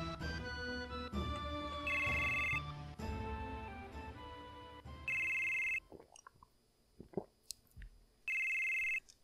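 Ringtone of a phone ringing in the video game Final Fantasy VII, a repeating electronic tone pattern in several bursts, first over busy game music and then alone in near quiet with a few small clicks.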